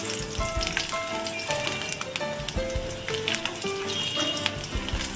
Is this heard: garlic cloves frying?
yes